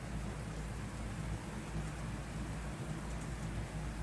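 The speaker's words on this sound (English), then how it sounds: "It started to rain." Steady rain falls outdoors as a continuous, even hiss of drops with no break, moderately loud and heard alone.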